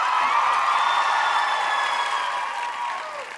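An awards-ceremony audience at a Manchester event applauds and cheers, a dense, steady wash of clapping with high whoops that fades slightly toward the end.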